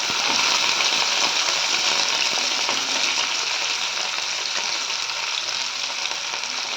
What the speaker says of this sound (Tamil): இப்போ வெங்காயம், கருவேப்பிலை சேர்த்துக்கலாம்.